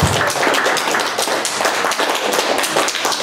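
Warm applause for the authors at a book launch about Kraków's FMW, a moderately loud, slightly uneven patter of clapping hands filling the room.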